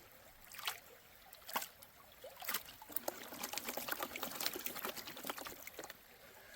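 Water sloshes and trickles in a gold pan during panning in Georgia, a quiet series of irregular splashes and swishes that swell into a steadier rhythmic wash, close by and faint.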